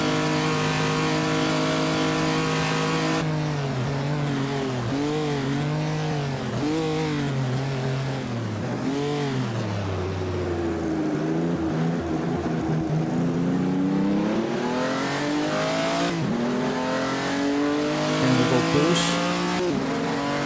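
A 1949 Noris-Ring GP race car engine in Assetto Corsa roars loudly and steadily, rising and falling through gear changes with repeated upshifts and brief tire squeal, no voices.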